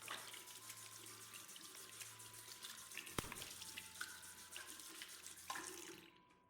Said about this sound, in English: water began to run from a faucet and a scrubbing sound began.